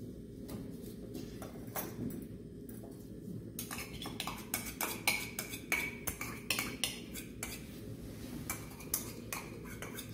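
Rice cake dough being stirred with yuja syrup in a bowl, giving irregular scraping and clinking taps of a utensil against the bowl, moderately close, over a low steady room hum.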